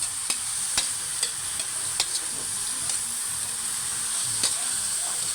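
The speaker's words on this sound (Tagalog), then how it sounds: "Haluin lang po natin para masama-sama na po ang lasa niya" Pancit bihon rice noodles sizzle steadily in a hot pan while a utensil stirs them, with regular light scrapes and taps against the metal over a constant bright hiss.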